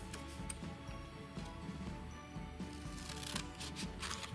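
Scissors cutting horizontal lines into a folded paper heart for a pop-up valentine card, a dense run of soft crisp snips and rustles close up, with no talking.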